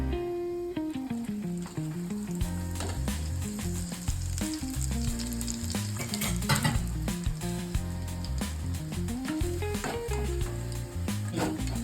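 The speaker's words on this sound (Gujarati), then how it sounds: "હવે આ સુરણ તળી નાખું છું." Pieces of suran (elephant foot yam) fry in hot oil with a steady, crackling sizzle that continues throughout, with music playing underneath.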